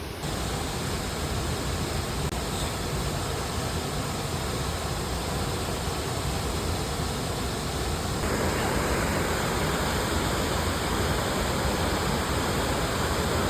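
A monsoon waterfall in the Konkan region sends out a continuous, dense roar of falling water that holds steady throughout and grows noticeably louder and fuller partway through.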